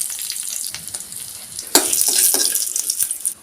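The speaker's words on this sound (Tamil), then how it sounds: "பாத்திரம் சூடாயிடுச்சு கடுகு சேர்த்துக்கலாம் ரெண்டு வரமிளகாய் ஒரு கொத்து கருவேப்பிலையும் சேர்த்துக்கலாம்" Mustard seeds, two dried red chillies and a sprig of curry leaves sizzle in a hot pan, tempering for rasam in a vegetarian feast. A steady crackling hiss jumps into a louder, spattering burst midway, then keeps frying up close with no talk.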